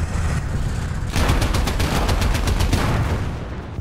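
Automatic gunfire in a War Thunder tank ground battle, a rapid string of sharp bursts starting about a second in and continuing steadily over a low rumbling engine and battlefield bed, fairly close and loud.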